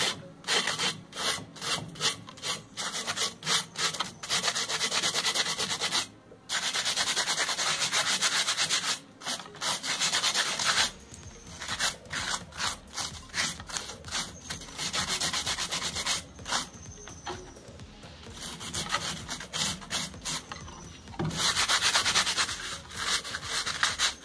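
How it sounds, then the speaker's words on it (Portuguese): Sandpaper rubs burrs off a freshly molded vase, with rapid back-and-forth scratchy strokes in bursts broken by short pauses, close and fairly loud with no voices. "Então você vai pegar a lixa e vai"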